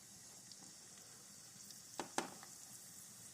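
Chopped onion dropped into hot palm oil for egusi soup, giving a quiet, steady sizzling hiss with a few small crackles and pops near the end.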